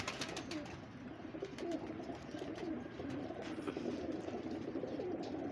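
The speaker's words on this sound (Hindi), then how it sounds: "ये देखे कबूतर" Golden pigeons coo steadily at a pigeon show, a soft continuous burble of overlapping calls heard close by with no talk.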